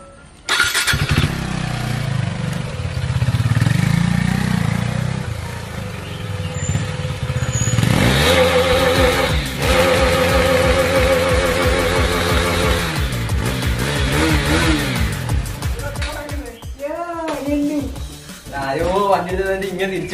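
A newly bought 350,000-rupee motorcycle engine revs repeatedly in rising and falling bursts, loud and close, after a stretch of idling rumble, with voices talking over parts of it.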